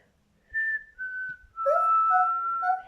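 A person whistles a few sustained tones, first two short notes, then a longer wavering whistle imitating the wind, close and clear in a quiet room.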